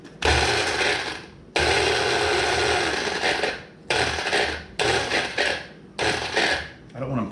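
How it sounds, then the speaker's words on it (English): Electric grinder fitted with a wet attachment chops five large garlic cloves in several loud whirring bursts separated by short pauses, the last bursts briefer, with a little talk in between. "I'm gonna grind these 5 pretty decent sized cloves of garlic up."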